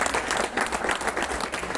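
A neighbourhood crowd gathered in a street claps in welcome, a dense, lively burst of applause from many hands that keeps up steadily.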